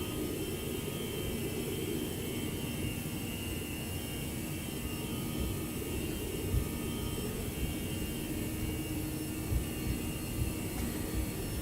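Steady, loud roar of simulated CFM-style jet engines on a ToLiSs Airbus A319 spooling at takeoff thrust in X-Plane 11, a continuous broadband rumble with a faint whine and no voices.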